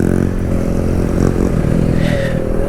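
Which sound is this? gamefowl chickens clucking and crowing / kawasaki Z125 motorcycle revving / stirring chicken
kawasaki Z125 motorcycle revving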